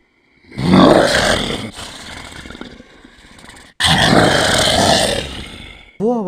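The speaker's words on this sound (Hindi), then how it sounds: "मुझे किसी जानवर के गुर्राने की आवाज़ सुनाई दी।" A menacing animal growl in a horror story rumbles up loudly in two long, rough snarling bursts separated by a brief quieter gap, ending in a short harsh roar.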